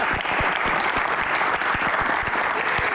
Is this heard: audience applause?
yes